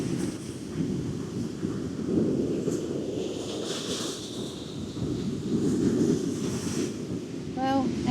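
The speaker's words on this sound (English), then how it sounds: "watching the waves and the sun." Wind-driven ocean surf breaks on a deserted beach in a continuous roar, with gusts buffeting the microphone throughout.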